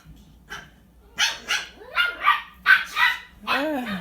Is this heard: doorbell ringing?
no